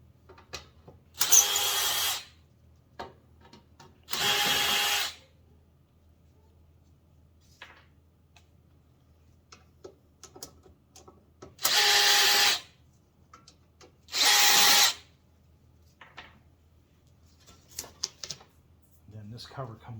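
Power drill backing screws out of the rear cover of a window air conditioner unit, four separate loud whirring bursts of about a second each, spaced apart with quiet handling clicks between them.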